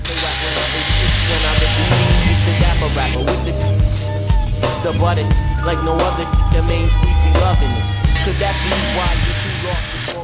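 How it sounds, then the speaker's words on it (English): An angle grinder works over the rusty frame rail of a Nissan 240SX, a loud, harsh metallic whine with shifting pitch as the disc bites, running continuously and close up. "I've been grinding on this a little bit"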